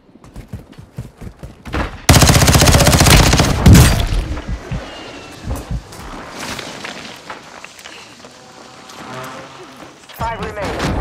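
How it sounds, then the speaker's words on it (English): A precision airstrike in Call of Duty: Modern Warfare II erupts in a dense, roaring barrage of blasts lasting a couple of seconds, then scattered thumps and gunfire with footsteps and a radio voice. "Enemy precision airstrike."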